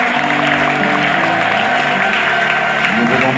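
A church congregation applauds during a Christmas parish celebration, a steady wash of clapping and crowd noise mixed with sustained tones, filling the whole stretch at a loud, even level.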